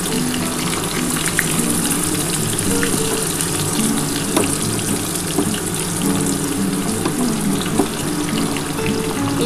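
Potato, papaya, raw banana and drumstick pieces fry in hot oil for a shukto recipe, making a continuous close sizzling hiss with scattered crackles and pops throughout.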